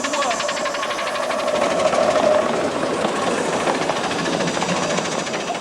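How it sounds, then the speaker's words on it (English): A 7¼-inch gauge miniature train runs round the track at the 7¼" Gauge Society AGM at Pecorama, making a steady clickety-clack rhythm with engine chuffing. It stays close and continuous, with faint crowd murmur underneath. "And there goes our train on another journey round the track."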